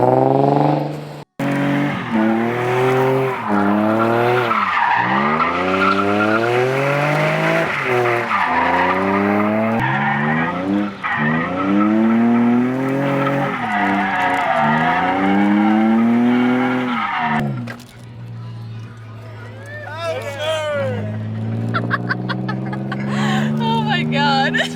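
A budget Nissan 350Z drift practice car revs hard, its engine pitch climbing and falling in repeated loud sweeps while the tires squeal through slides, then settles to a lower idle near the end.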